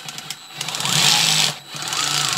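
A DEWALT 8V MAX gyroscopic cordless screwdriver drives a screw with a close, high-pitched motor whine that surges, dips briefly and then runs again, with a few clicks at the start.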